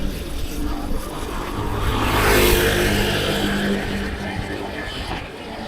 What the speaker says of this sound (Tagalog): Yan, mga kotseng nakakasabay pa isa-isa.